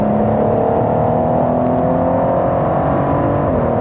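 A Lanzante McLaren P1 GTR howls steadily on a racetrack, its loud, sustained engine note close by and rising slightly in pitch before easing near the end.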